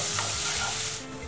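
Vegetables frying in hot oil in a pan for veg momos, a brief, close, steady hiss and crackle of sizzling.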